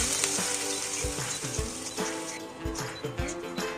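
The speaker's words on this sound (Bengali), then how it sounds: "পেঁয়াজ কুচি হালকা বাদামি রং ধারণ করলে তাতে দিয়ে দিন আদা, রসুন বাটা ও কিছুটা হলুদের গুঁড়া দিয়ে কষিয়ে নিন।" Chopped onion, browned, frying with ginger-garlic paste and turmeric in a pan, giving a dense continuous sizzle with occasional soft knocks of a spoon, close and steady for a few seconds.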